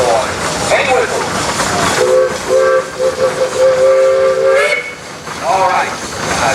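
A Case steam traction engine at a steam show blows its whistle, a loud steady multi-toned blast lasting a few seconds amid hissing steam, followed by a shorter toot.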